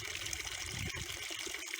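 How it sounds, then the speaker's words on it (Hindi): Spring-fed water running steadily from a tap that flows around the clock, a faint continuous hiss and splash heard close with no talk. "आपके कपोटी में जो ये पानी नल से जो आता है 24 घंटा चालू रहता है"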